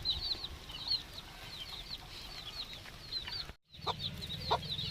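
A hen with her chick clucks repeatedly at close range, a quick run of sharp calls with a brief flutter of wings, outdoors on a farm.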